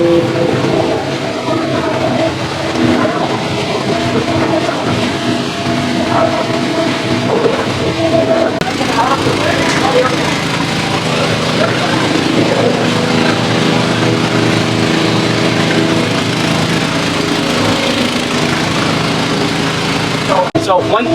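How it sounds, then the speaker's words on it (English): A Kohler-powered 3600 PSI sewer jetting machine running steadily, a continuous small-engine drone with high-pressure hiss and a faint clunk near the end, while someone talks over it. "you basically just want to work the jetter in and out in a cleaning fashion like you would anything"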